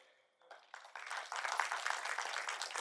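An audience at a Gujarati poetry gathering breaks into applause, starting with a few scattered claps and quickly building into a full, sustained round of clapping from many hands.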